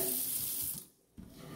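Tap water runs steadily from a kitchen faucet, filling water to add to a pot of beef neckbone soup. The flow is close and continuous, with a brief drop in the middle before it surges back.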